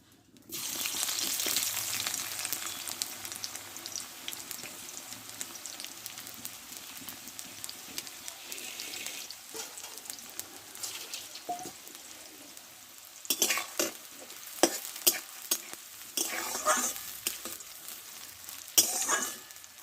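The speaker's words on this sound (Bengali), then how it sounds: "আমি পেঁয়াজটা আগে ভেজে নেব ভালো করে" Steady, loud sizzling of onions frying in hot oil for ghugni, with stirring scrapes and clinks of a utensil growing busier toward the end.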